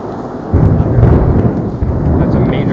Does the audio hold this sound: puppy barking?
no